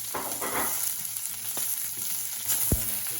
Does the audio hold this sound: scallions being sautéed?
yes